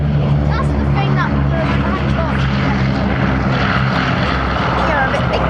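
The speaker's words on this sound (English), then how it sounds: "rolling off the hard runway, Boeing B17G flying Fortress, Sally B" A Boeing B-17G Flying Fortress four-engine propeller bomber rolling off the hard runway at the Duxford Battle of Britain air show, a loud steady propeller drone and engine hum, with a commentator talking over it.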